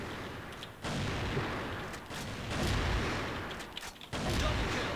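Gunfire in a shooter video game rattles in dense, continuous bursts with booming low end, nearly unbroken over several seconds, with brief dips between volleys.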